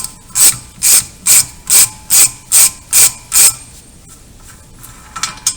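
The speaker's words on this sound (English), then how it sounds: "Now I'll just remove the nut." Ratchet wrench loosening the axle nut on a Volkswagen Golf mk4 during a rear wheel bearing job: eight loud, evenly spaced close ratcheting bursts, then a quiet pause and a couple of faint clicks.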